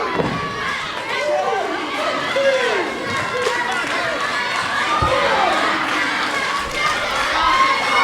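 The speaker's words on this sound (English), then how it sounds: "You hear the crowd now chanting for Kadillak" At a wrestling event in the Riverside Elks Lodge, the crowd chants for wrestler Chris Kadillak, a steady roar of voices with children's shouts and an occasional thud from the ring.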